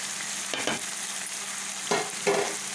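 Salt and chili powder are stirred into mutton curry frying in a pan: a steady low sizzle runs throughout, broken by a few scraping stirs of a spoon, close and moderately quiet.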